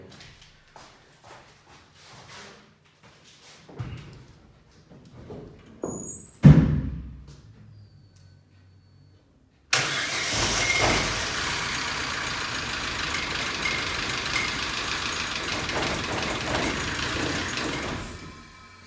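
A Daewoo Nexia car engine cranks and catches after a stretch of quiet footsteps and shuffling, then runs with a steady, rough mid-pitched idle close by until the end.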